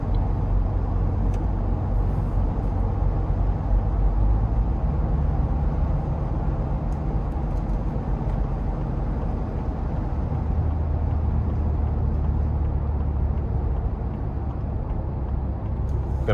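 A 2025 Ford Bronco Base two-door in sport mode gets ready to merge onto the interstate, its engine a steady, muffled cabin drone with road noise and no clear surge in revs.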